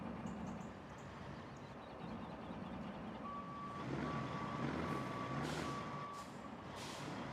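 A semi-truck in the video game Roadcraft reverses, its steady series of four high beeps sounding faintly over engine rumble and soft hissing air.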